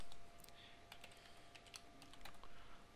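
Typing on a computer keyboard while naming a player in a Blood Bowl game, a steady run of quick, close, light key clicks with a faint hum underneath.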